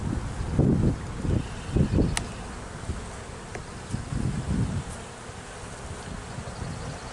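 Honey bees buzz densely around an open hive during a spring inspection in a bee yard, a close, continuous drone that swells and fades as individual bees pass near, with faint wind and no talk.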